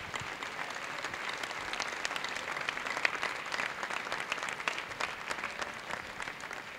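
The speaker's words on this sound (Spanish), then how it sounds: "Un aplauso para ellos también" Applause from the audience at the San Antolín 2014 festival proclamation in Medina del Campo, steady dense clapping held evenly throughout without voices.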